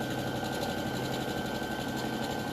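A sewing machine runs continuously as it stitches a fabric mat raw edge to raw edge, giving a steady, close mechanical whir and hum with no pauses and no voices.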